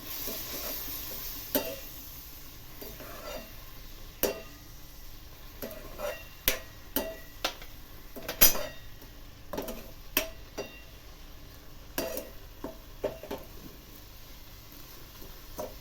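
Vermicelli roasting in a pan, being stirred, with milk added, makes a faint steady sizzle with repeated scraping clicks of a spoon against the pan, quiet and close.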